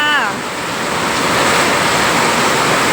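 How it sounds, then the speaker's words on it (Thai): Heavy rain pours down steadily at Mahachai market in Samut Sakhon, where the streets are starting to flood, making a loud, continuous dense hiss with no talking. "แต่ว่าฝนตกไม่หยุดค่ะ"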